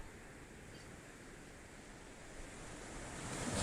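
Water in the game Foxhole, a soft continuous wash of lapping surf and hiss that swells slightly toward the end, faint and steady with no other sounds over it.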